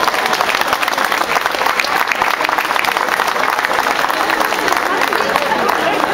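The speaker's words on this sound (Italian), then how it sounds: "a tutti coloro che sono morti lavorando, ai quali a mio giudizio dovrebbe andare stasera un fortissimo applauso" Dense, steady audience applause fills an outdoor May Day rally in Chiaiano against landfills, a continuous wash of many hands clapping at close range with no pauses, loud throughout.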